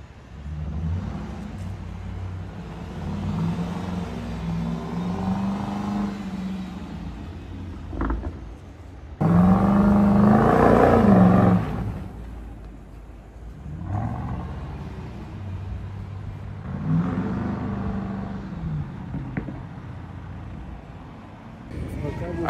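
A car fitted with summer tyres is driven and drifted on snow, its engine giving a steady low rumble that swells into a louder revving burst midway before settling back.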